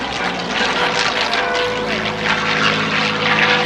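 A Vought F4U Corsair propeller fighter flies at the McGuire AFB airshow, its piston engine and propeller making a loud, sustained droning roar throughout with a slowly shifting pitch.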